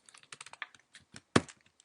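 Light, quick keystrokes tap on a computer keyboard, close and quiet, in an uneven run of clicks ending with one sharper, louder key press.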